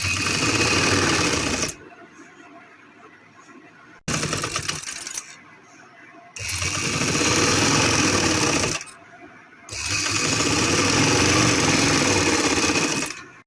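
A sewing machine stitches along the inward-folded edge of a box-plate salwar, running in loud, steady bursts that stop and restart with quieter pauses between them.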